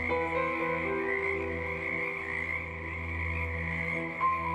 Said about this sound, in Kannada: ಕಪ್ಪೆಗಳು ತಮ್ಮ ತಮ್ಮ ಚಟುವಟಿಕೆಯಲ್ಲಿ ಬ್ಯುಸಿ ಆಗ್ತವೆ.